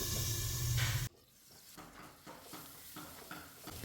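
Chopped tomato dropped into a hot pan for a Kerala-style chickpea curry gives a loud burst of sizzling for about a second, then settles into a quieter, steady crackle with faint stirring taps.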